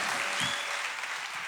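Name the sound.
applause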